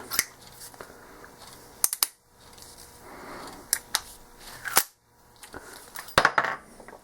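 An Uberti 1875 Smith and Wesson Schofield revolver, brand new and single action, is broken open to eject spent brass. Sharp metallic clicks and clacks come in scattered bursts, close and crisp, with no voices.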